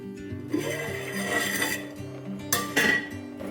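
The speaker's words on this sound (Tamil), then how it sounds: "இப்போ இதை மூடி வச்சு இப்படியே வேக வைக்கணும்." A lid goes onto a metal cooking pot of saaranai keerai greens. There are close clinks and clanks of metal on metal, with a couple of sharper knocks near the end, and no talking.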